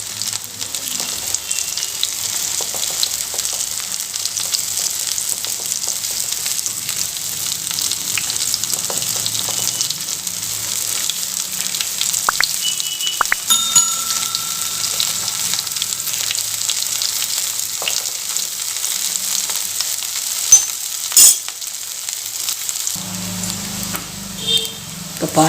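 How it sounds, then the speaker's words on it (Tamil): A banana flower snack deep-fries crisp in hot oil, a steady fine crackling sizzle that continues throughout, with occasional clinks from turning the pieces. "ஆயிலே நமக்கு சூப்பராக கிறிஸ்பியாக ஃப்ரை ஆகி வந்துடுங்க"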